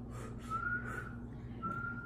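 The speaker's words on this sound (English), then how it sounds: "Let me see you whistle." A person whistles a thin, wavering tone in two short bursts at close range, the first longer than the second, over a steady low background hum.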